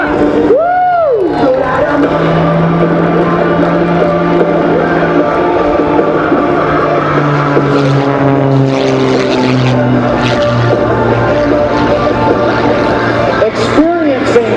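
Rob Holland's MXS-RH aerobatic propeller plane at the NAS Oceana air show, its engine droning steadily then swelling and shifting pitch as it maneuvers, loud over a busy crowd with an announcer talking throughout.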